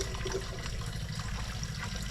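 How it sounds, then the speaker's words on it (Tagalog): Water poured from containers into a drum at a rural well, a continuous gurgling, splashing stream heard close up with a low rumble beneath. "Salin-salin lang mga karabas sa drum."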